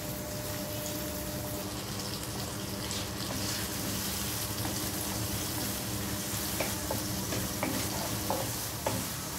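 Sautéed tomatoes for ginisang monggo are stirred in a pan, sizzling and frying steadily with scattered scraping clicks of the utensil, close and continuous, with no talking.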